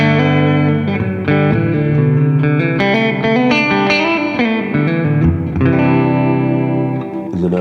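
Electric guitar played through a modulated hall reverb and an always-on spring reverb pedal, sustained chords and notes blooming into a wide, shimmering wash, loud and continuous with no talking.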